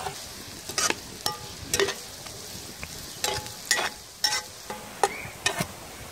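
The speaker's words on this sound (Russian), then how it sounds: "жарим, непрерывно помешиваем." Carrots and onion frying in oil over low heat with a steady sizzle, broken by repeated scraping stirs of a spatula in the pan at an uneven rhythm, close up.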